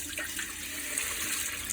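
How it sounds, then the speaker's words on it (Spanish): Water runs steadily into a pot of dried corn and slaked lime being prepared for zacahuil, a close continuous pouring and splashing with no talk over it. "Aquí voy a agregar un poco de agua y voy a agregar la cal."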